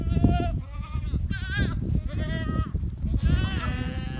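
Small group of sheep grazing at the front of a farm, bleating repeatedly at close range in several overlapping calls with pauses between them.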